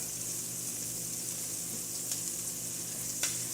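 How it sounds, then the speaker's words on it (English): Shrimp fry in hot oil with a dense, steady sizzle and crackle, loud and close, with a couple of sharper pops and no talking. "you're here babysitting, watching these shrimp cook"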